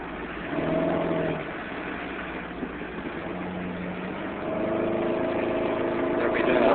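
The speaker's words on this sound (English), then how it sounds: "94 Cavalier, the ignition wires, spark plug wires are a bit wet and they're arcing, so we got a misfire, possibly 2 cylinders" A 1994 Chevy Cavalier 2.2 idles with a misfire from wet, arcing spark plug wires, a steady mid-pitched engine drone that swells slightly toward the end, with no talk over it.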